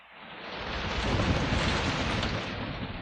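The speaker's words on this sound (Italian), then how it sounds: "C'è il temporale!" A thunderstorm rumbles with a broad, swelling roll of thunder mixed with rain, rising and holding for several seconds at moderate distance.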